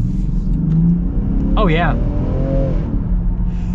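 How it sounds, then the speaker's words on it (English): A 2022 Land Rover Defender Explorer Pack with a 3-liter inline six pulls away in traffic, its steady engine drone rising under acceleration with a faint turbo whistle, while someone speaks briefly over the cabin noise. "You can actually hear a little bit of turbo noise too."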